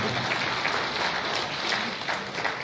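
Audience applause at an Urdu mushaira poetry gathering, steady dense clapping from a crowd filling the whole stretch without pause.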